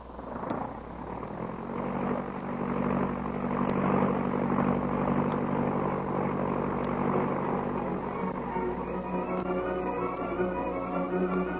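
A small airplane drones steadily through its takeoff run, its engine a continuous loud hum that rises slightly in pitch and holds at a constant level with no talk.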